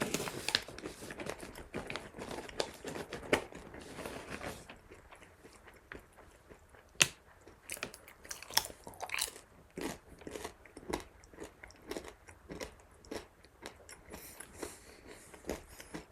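Someone bites into and chews a bland, additive-free Ninzia protein cracker up close, with repeated crisp crunches and crackles over about sixteen seconds, loud at first and then settling into softer, irregular chewing.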